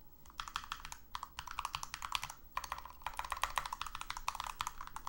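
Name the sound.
fast typing on a computer keyboard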